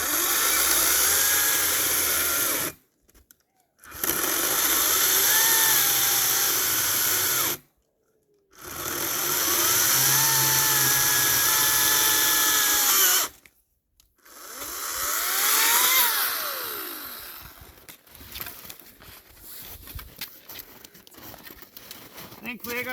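A Ryobi 40V battery chainsaw cuts through wood for a big wood boiler, with three long, loud buzzing cuts broken by short pauses, then a rougher, sputtering cut that trails off into scattered crackling.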